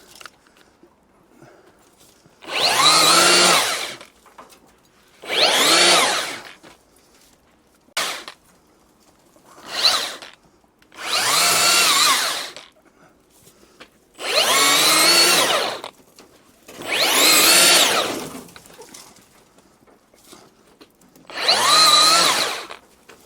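A cordless Milwaukee M18 saw cuts through a tree branch outdoors in about seven loud, close bursts of whining motor noise, each lasting a second or two, separated by short quiet pauses.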